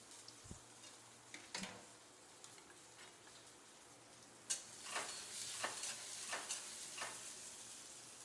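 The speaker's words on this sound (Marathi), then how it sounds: "त्यानंतर टाकून द्यायचा कांदा, कांदा थोडा तेलामध्ये परतू द्यायचा।" Chopped onion sautéing in hot oil with ginger-garlic paste for wheat-flour samosa filling, a steady soft sizzle with a few stirring scrapes and louder spatters toward the end, no talking.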